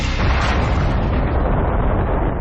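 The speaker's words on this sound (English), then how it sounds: "America explodes the largest thermonuclear device ever detonated." Thermonuclear bomb explosion from the Bravo test at Bikini Atoll, a deep, loud, sustained rumbling roar that fills the whole stretch without any voices.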